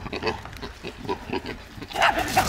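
Pig in a barn grunting in a series of short, uneven snorts and oinks, close and moderately loud, with a louder squealing burst near the end.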